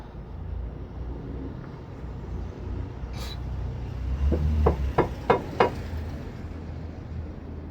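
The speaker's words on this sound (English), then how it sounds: "let me use my hammer." Hammer blows on a new lower control arm of a second-generation Honda CR-V, struck through a folded cloth to seat it, five or six sharp, muffled knocks in quick succession after a quieter stretch.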